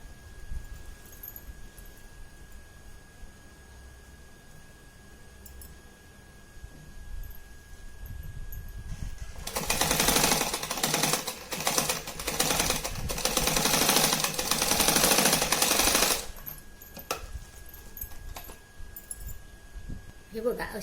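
A sewing machine stitches the second side of a twin pouch in one burst of rapid mechanical chatter lasting several seconds, preceded and followed by quieter room sound and faint handling.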